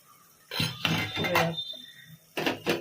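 Metal pot lid lifted off a pan of mango dessert cooking with sugar syrup and grapes: a sharp clatter and scrape, a pause, then a second short clink, close by with no talk.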